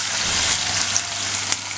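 A hot tempering is poured into avial, setting off a loud, even sizzle that hisses continuously up close with a couple of sharp pops.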